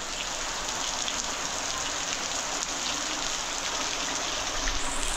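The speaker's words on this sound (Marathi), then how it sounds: "खूप सारा पाऊस जो आहे तो कोकणातला सुरू झालेला आहे आणि जोरदार पाऊस पडतोय" Heavy monsoon rain pours steadily in the Konkan region, a dense, even hiss of downpour close by, unbroken and loud throughout with no voices.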